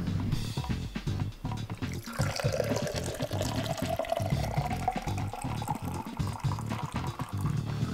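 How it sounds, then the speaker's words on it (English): Orange pekoe black tea is poured from a container into a cup, a continuous liquid gurgle with a rising pitch as the vessel fills, steady for several seconds with no speech. "Might as well pour some tea here for me"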